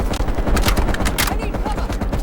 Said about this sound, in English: Take out that heavy MG!